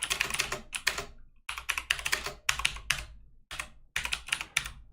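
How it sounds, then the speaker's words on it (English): Rapid clattering keystrokes on a loud computer keyboard come close and crisp in several bursts of typing separated by short pauses. "I actually really have a loud keyboard"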